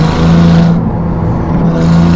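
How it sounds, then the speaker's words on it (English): Ferrari 296 GTB fitted with a Novitec exhaust, engine droning steadily with a high, thin turbo whistle riding over it, loud and close from inside the car, no voices. "You guys hear the turbo whistles?"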